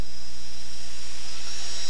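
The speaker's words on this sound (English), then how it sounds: "Helicopter engine." Turbine engine from a helicopter powering an unlimited modified pulling tractor at a 1997 USHRA tractor pull in Chapel Hill, Tennessee, a steady, loud, close whine with a continuous roar and no break across the short stretch.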